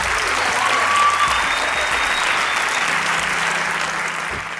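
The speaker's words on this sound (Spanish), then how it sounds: "Fuerte aplauso para Electric Man." A studio audience at a Spanish comedy show gives a comedian loud, sustained applause, a dense wash of clapping that fades slightly toward the end.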